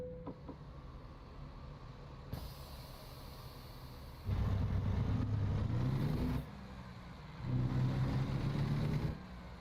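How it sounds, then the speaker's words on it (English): Freightliner truck engine in American Truck Simulator, a low diesel rumble that idles and then swells into two sustained revving pulls with rising pitch. "So these sound more like Volvo engines than anything else for the time being."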